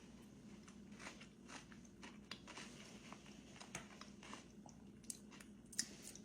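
Close, quiet chewing and biting while tasting homemade baked beans with brown sugar and onion, a soft irregular series of moist smacks and small crunches.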